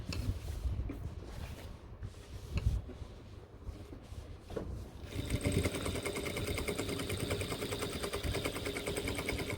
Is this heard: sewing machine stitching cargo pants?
yes